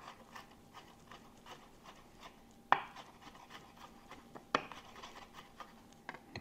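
Vegetables are coarse-chopped for a Cuban-style bean soup, giving faint, close knife taps on a cutting board with two sharper, louder knocks among the softer cuts.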